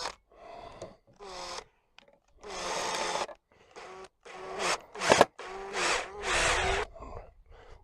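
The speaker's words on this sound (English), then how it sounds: "put that first screw into its hole" A power screwdriver whirs in several short bursts, biting into wood with grinding pauses between runs, close and fairly loud.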